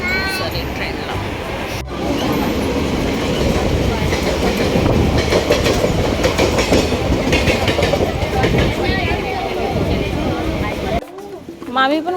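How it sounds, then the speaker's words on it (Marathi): A passenger train runs by at close range with a loud rumble and rhythmic clickety-clack of wagons, while people talk over it, before a brief break near the end. "ट्रेन पकडतो."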